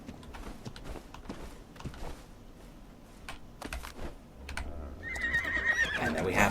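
A horse in the video game Ark: Survival Ascended lets out a clear whinny near the end, over a soft bed of clicking keys and faint game ambience.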